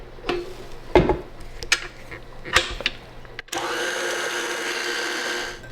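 Electric mixer with a whisk attachment whirring steadily after a few sharp clatters and knocks of bowl and utensils, the motor starting abruptly and running at an even, close hum to the end.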